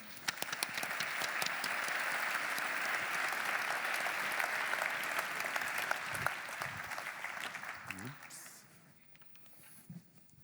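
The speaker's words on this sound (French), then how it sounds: "On les applaudit bien fort." Sustained audience applause at an insurance industry conference, steady and dense for about eight seconds before tapering into scattered claps and murmurs.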